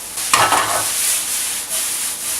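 Carrot, zucchini and oyster mushroom slices being stirred in a pan for vegan lasagna, a soft scraping rub with a faint steady sizzle, close and alone.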